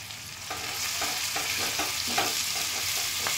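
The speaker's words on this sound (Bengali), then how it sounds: "জাস্ট সতে করে নেব পেঁয়াজগুলো" Onions and curry leaves sauté on a high gas flame, a steady loud sizzle with repeated scraping stirs about every half second, close and continuous with no voices.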